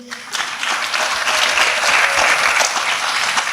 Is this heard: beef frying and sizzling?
no